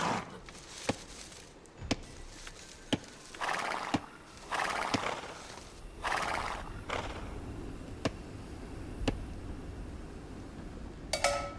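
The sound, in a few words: scout's horse neighing and trotting, Age of Empires II video game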